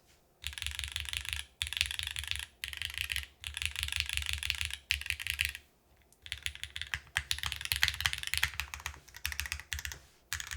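Typing on The Oblique, a 60% mechanical keyboard, in close bursts of crisp clacky keystrokes separated by short pauses, with a few deeper spacebar thocks mixed in; quiet room and no voices.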